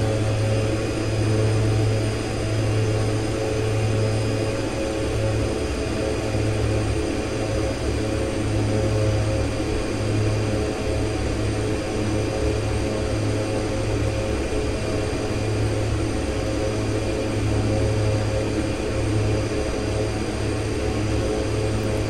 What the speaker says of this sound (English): So, we've got liftoff. Nice gradual climb.